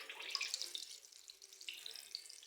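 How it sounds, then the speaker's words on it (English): Water pours and splashes steadily out of a washing machine as it is drained by hand, a close, continuous trickling gush at moderate volume. "See the water coming out is very smelly."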